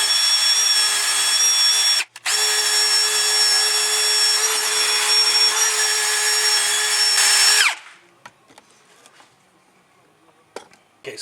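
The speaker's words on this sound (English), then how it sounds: "And then you're just going to run your drill over it." Power drill with a cleaning attachment grinds gasket material off a cylinder head, a loud steady high whine running about seven and a half seconds with one brief break near two seconds, then stopping into near quiet with faint clicks.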